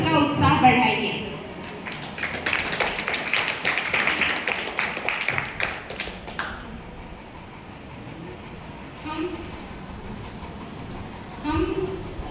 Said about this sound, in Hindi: तालियों के साथ उनका उत्साह बढ़ाइए।